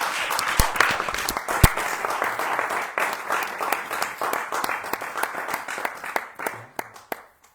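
An audience at an evening Hari Katha gathering breaks into sustained, dense applause, with sharp individual claps standing out before it thins to scattered hand claps near the end.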